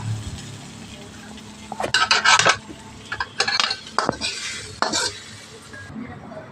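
A metal spatula stirs and scrapes fried okra in a pan, with several clusters of loud clinks and scrapes against the pan over a low background hiss, no talking.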